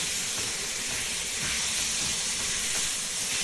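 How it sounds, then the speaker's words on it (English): Beef for a Chinese-style pepper steak browns in a hot pan, producing a loud, continuous hiss of sizzling that stays constant and close from start to finish. "Brown it a little bit."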